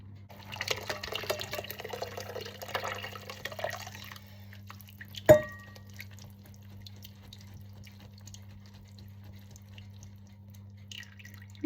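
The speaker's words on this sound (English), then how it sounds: "Drain in a sieve." Boiled potatoes are tipped into a sieve, water splashing and trickling through for a few seconds, followed by a sharp clatter and a low steady hum in a quiet kitchen.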